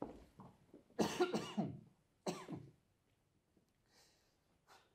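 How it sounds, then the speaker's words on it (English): A woman coughs in harsh bursts from smoke, with two loud coughing fits close to the mic, then faint breathy sounds and a soft hiss afterward. "the smoke seems to seek you out. I've quite the cough now."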